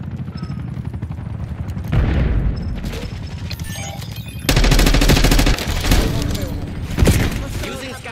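Rapid SMG gunfire in Call of Duty, bursts of automatic shots swelling loudest near the start and middle, fairly close and dense, with heavy in-game combat noise throughout.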